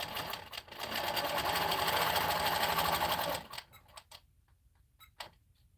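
A longarm quilting sewing machine stitches a quilt, running as a steady, loud, dense mechanical whir for about three seconds before stopping abruptly, followed by a few faint clicks and taps.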